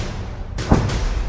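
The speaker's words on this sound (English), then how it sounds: "Hearing cannons go off in the distance, and you hear that distinctive sound, feeling the compression in your chest." A mortar cannon fires a single round, heard as one dull, deep boom against a steady outdoor background.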